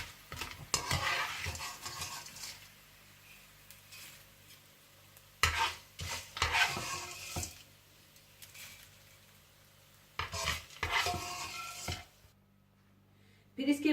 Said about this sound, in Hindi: इसी घी में सारे नट्स, पिस्ते, बादाम, काजू और कोकोनट, स्वाई किशमिश और चारे मगज के, इन्हें भी मैं हल्की आंच पर फ्राई करके निकाल लूंगी